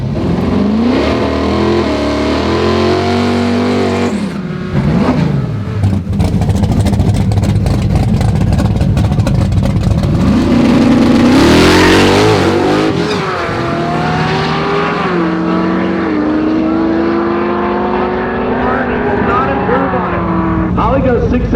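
A supercharged late model Chevy makes a drag racing run, its loud, close engine revving and rising through gears in strong sweeping surges, with a voice talking over the roar.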